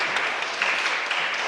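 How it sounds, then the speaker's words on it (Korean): A church congregation applauding Sunday school teachers at a Christmas Sunday service, a steady wash of many hands clapping together for a brief moment. "우리 한 번 더 매해 수고하시는 우리 주일학교 선생님들께 축복의 박수를 또 한 번 보내겠습니다"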